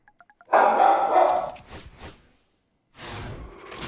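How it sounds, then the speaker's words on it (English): A dog barks at the window, loud and close: a few quick yips first, then a long sustained bark-whine, a couple of shorter barks, a pause and one more burst. "Oh no, Big Dog is upset."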